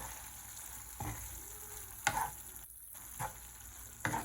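Eggs fry in spiced masala in a pan, a steady hiss under a few soft scraping knocks from stirring, fairly quiet and without talk.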